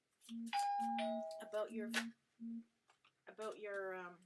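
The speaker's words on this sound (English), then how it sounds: "sorry, that was my phone." A phone's notification chime sounds as a few short repeated electronic tones, close and fairly clear, interleaved with someone talking.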